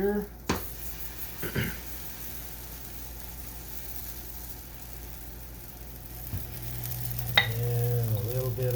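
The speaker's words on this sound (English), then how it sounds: "I love that sizzle." Sweet potato pancake batter sizzles on a griddle set to 350 degrees, a steady soft hiss running through the clip, with brief clatters of utensils near the start and someone speaking toward the end.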